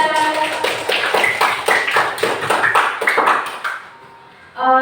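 Schoolchildren clap together in a classroom for a classmate, a dense patter of hand claps that goes on steadily for about four seconds and then stops, leaving a brief close sound at the end.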